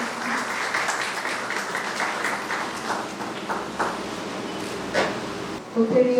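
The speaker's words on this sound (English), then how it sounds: "Please a big round of applause." Audience clapping at a Teacher's Day celebration held at a college in Malda, a steady sustained round of applause filling the hall with scattered louder claps near the end.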